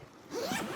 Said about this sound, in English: So it like unzips all the way around